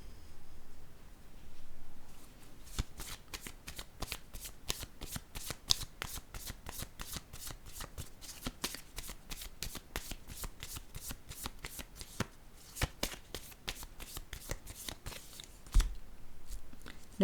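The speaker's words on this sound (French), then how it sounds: "Je vais déposer une autre carte." Playing cards riffle and snap in a long, steady run of rapid crisp flicks, close and fairly quiet, with a few sharper slaps as cards are set down on a surface near the end.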